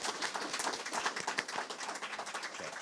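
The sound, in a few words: applause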